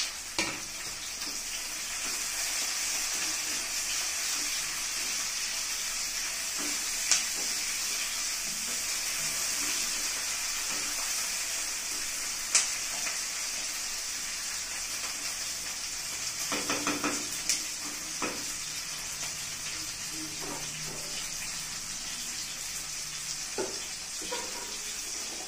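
Chopped tomatoes fry in a pan for chilli paneer, giving a steady, close sizzling hiss throughout with occasional stirring scrapes and brief clatters, and no talking.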